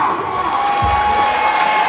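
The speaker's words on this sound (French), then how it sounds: "Et vous l'applaudissez pour moi." Crowd applauding and cheering at an evening awards-style show, a dense, loud and steady wash of clapping with whoops that fills the whole stretch.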